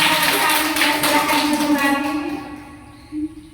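Group clapping from Indonesian mothers at a positive school culture session, dense and steady at first, then thinning and fading toward the end, with one brief louder burst near the close.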